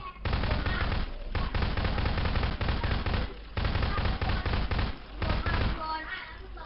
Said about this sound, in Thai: ไอ้ตากล้อง ช่วยด้วยครับช่วยด้วยไปเขายิงเราอะทำไงดี